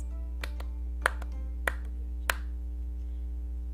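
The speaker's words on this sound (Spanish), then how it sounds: "Todos empezaron de inmediato a seguir el ritmo con las" Hands clap along to the rhythm of a song, about five sharp, evenly spaced claps standing out over a steady low hum, fairly close with no voices.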